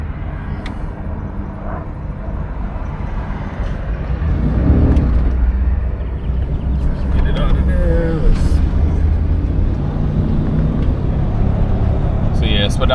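A 1975 Buick LeSabre drives down the road, its engine and road rumble steady and low from inside the car while someone talks over it.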